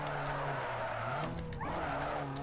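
A modified Nissan Sentra drifts in Need for Speed Underground 2, its tires screeching in a long loud skid over the droning engine, with the pitch sliding down midway before the engine note climbs again.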